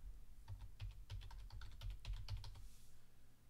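Close, quiet keystrokes on a computer keyboard, entering a word into Terraform configuration code: a quick run of about a dozen light clicks over a low hum, alone with no talking.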